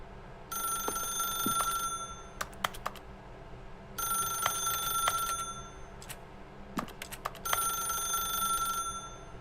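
A telephone rings in the video game The Stanley Parable in three long, bright electronic bursts separated by short pauses, with scattered clicks and taps between the rings and no voices.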